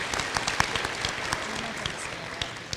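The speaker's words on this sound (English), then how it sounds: "We can clap for that." Audience applause at a 2019 senior awards program: dense, steady clapping from a crowd, filling the whole moment without voices.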